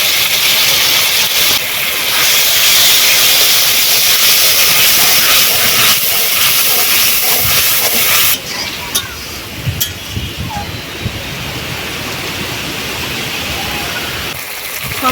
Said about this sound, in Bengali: এই যে মশলাটা কষানো হচ্ছে এই মশলা থেকে দারুণ গন্ধ বেরোচ্ছে